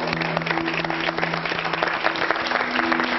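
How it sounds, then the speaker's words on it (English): An audience applauds in a dense, steady wash of clapping that holds at an even level throughout, with a faint tonal hum running underneath. "Give these guys a big round of applause."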